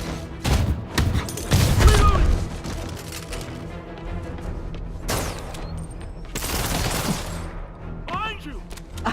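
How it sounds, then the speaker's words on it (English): Bursts of gunfire in the PS4 game Spider-Man: rapid volleys and heavy thuds in the first few seconds, more shooting later, with in-game character voices calling out between and over the shots. "There's a guy dodging bullets."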